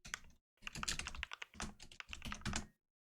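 Rapid keystrokes on a computer keyboard while i2c commands are entered for a PicoMite running MMBASIC. The clicks come in close, dense bursts with a short silent pause near the start and another at the end.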